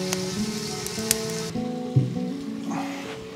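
Rice crust (guoba) sizzles in a covered wok as the added water cooks off, a close crackling fry with a clatter partway through.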